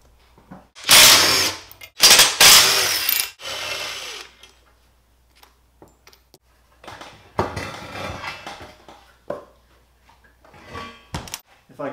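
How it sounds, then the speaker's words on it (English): Power tool unbolting a winch from a hitch receiver, with two loud, close bursts of impact-wrench rattling, then quieter clanks, metallic handling and intermittent shorter buzzes. "the first thing I'm going to do is unbolt the winch from this receiver"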